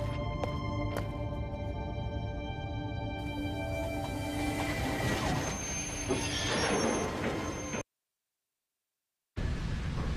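A train rides along in the video game Edge of Twilight, a sustained rumble with squealing, whining wheel tones, broken by a short stretch of total silence before the sound resumes; nobody speaks.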